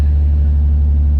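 Nissan 300ZX engine idling right after its first start-up following winter storage, a loud, steady low rumble heard close up in a closed space.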